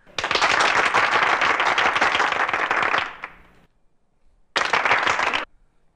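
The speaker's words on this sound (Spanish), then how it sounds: "Muchas gracias por esos aplausos." An audience bursts into dense, loud applause for about three seconds, falls silent, then gives a second, shorter burst of clapping.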